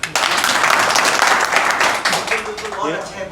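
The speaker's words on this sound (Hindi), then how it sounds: "किसान लोग ताली बजाएगी इस बात पे।" Farmers at a gathering burst into dense, sustained applause that fills the space, then it thins as a voice starts speaking over the tail end.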